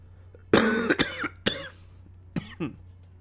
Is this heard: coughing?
yes